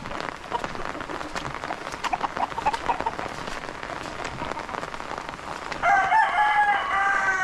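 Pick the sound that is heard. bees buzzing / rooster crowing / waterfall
rooster crowing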